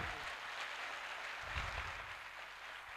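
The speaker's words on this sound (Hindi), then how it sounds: "एक बार ताली बजा के दिखाओ अपने लिए दोस्तों" Applause from a live motivational seminar audience, a steady broad crackle of many hands clapping that holds evenly for about three seconds, moderately loud and without talk over it.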